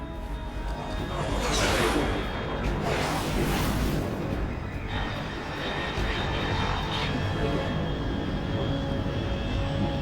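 A fast unidentified aircraft in the video game Metal Gear Solid Delta roars overhead, a loud, continuous engine rumble that swells and recedes in broad whooshing waves across the whole span.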